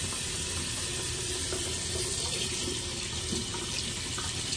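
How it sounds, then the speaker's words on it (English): A tap runs steadily into a sink while facial cleanser is rinsed off, a constant, close, broadband rush of water with only slight splashing changes and no speech. "And give it a little rinse."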